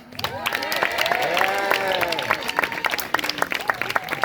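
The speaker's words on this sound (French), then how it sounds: "je demande un tonnerre d'applaudissements pour Anaël." Applause from a comedy club audience, a dense wash of clapping with a few cheers mixed in, and voices murmuring underneath.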